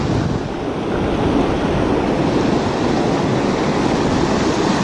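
Strong wind roars steadily across the microphone beside a mountain stream in the Pyrenees, a loud continuous rumbling gust with no pauses and no voices.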